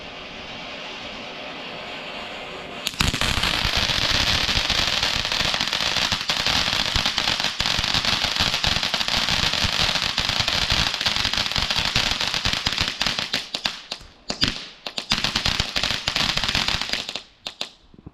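A Nukes of Hazard fireworks cake, a 28-gram category F2 battery by Jonathan's Fireworks, fires outdoors on Bonfire Night, a dense continuous barrage of loud crackling bursts for about fifteen seconds that breaks up into scattered pops before fading.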